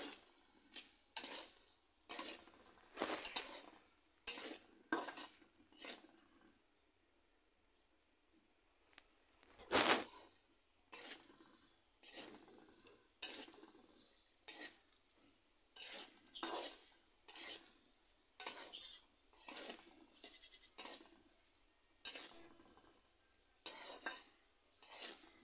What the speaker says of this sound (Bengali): এবার লবণ হলুদ দিয়ে ভেজে নেব আলুগুলো